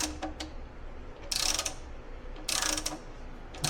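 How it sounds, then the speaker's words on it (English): A wrench tightens the oil drain plug on a 2007-2014 Mustang GT500, giving two short bursts of quick ratcheting clicks over faint background clatter, close by, with no talking. "I just kind of put the wrench on it"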